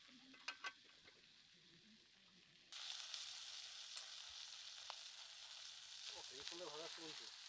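Crab frying in a pan in the Sundarbans, a steady hiss that starts abruptly after a few quiet seconds and holds, with brief voices heard before it and again near the end.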